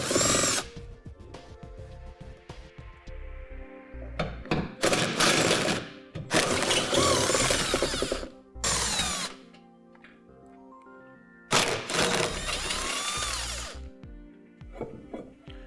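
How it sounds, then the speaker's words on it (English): A power tool whirs loudly in repeated bursts while removing four bolts from the hitch plate under a 2008 Infiniti G35, revving up and stopping several times at close range. "We can go ahead and remove our 4 bolts to take out this plate."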